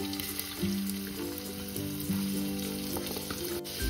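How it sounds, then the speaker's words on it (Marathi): Finely chopped onion frying in lightly heated oil for a mixed vegetable dish gives off a dense, continuous sizzle close by, with faint stirring and no voices. "आता तेल हलकसं गरम झालं ना की यामध्ये मी बारीक चिरलेला कांदा टाकणार आहे।"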